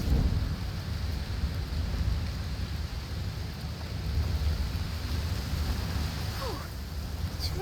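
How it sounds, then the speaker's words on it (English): Heavy, steady rainfall in a stormy coastal night scene of the game A Plague Tale: Requiem, a continuous dense wash of rain with low rumbling thunder underneath throughout. "Oh, it's raining a lot."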